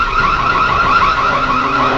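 A handheld personal alarm, pressed during a struggle in a house, blares a loud, continuous, piercing electronic wail that warbles steadily and fills the room without any pause or talking.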